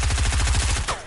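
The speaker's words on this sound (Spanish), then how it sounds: "Me eché medio cargador y no me contaba los tiros hasta después" Rapid automatic gunfire in Fortnite, a loud close burst of about a dozen evenly spaced shots in quick rhythm, ending with a brief ringing tail.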